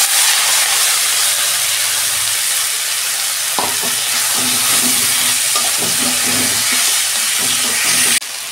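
Leafy noté greens dropped into a hot pan of ginger and fried tempering spices give a steady, loud sizzle, with stirring scrapes and taps joining partway through.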